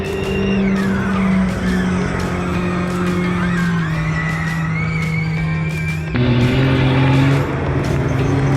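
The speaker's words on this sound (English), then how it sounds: "That's the electric car, guys, the Audi." An Audi electric rally car racing in the Dakar Rally rushes past close by with a loud, continuous whine that shifts pitch as it goes, then jumps sharply near the end, with tires hissing over the terrain.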